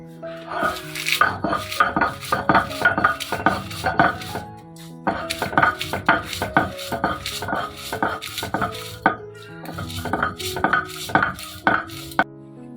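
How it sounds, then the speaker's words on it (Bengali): Dried fried fish being ground on a flat grinding stone for a rural-style ripe jujube pickle, a steady run of close, loud rhythmic scraping and knocking strokes with a brief pause midway. "শুকনা ভাজা মাছটা আমি আগে বেটে নিই"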